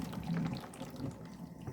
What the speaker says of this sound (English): you go ahead and you drain the water.